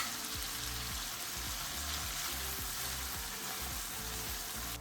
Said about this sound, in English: And we're gonna cook these a couple minutes until they're all pink and cooked through.